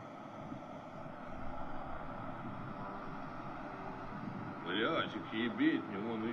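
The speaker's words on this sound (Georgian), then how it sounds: "მეორე დრონი დამატებით მიფრინავს" An attack drone flies toward an oil facility, its steady engine drone running throughout with wind noise over it, under urgent talk, and a louder, clearer rise near the end.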